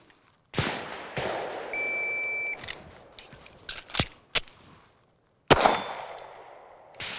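Pistol shots fired downrange during a one-shot reload drill at an outdoor range: sharp, isolated cracks spaced a few seconds apart, with clatter and handling noises between, fairly close and loud, no talking.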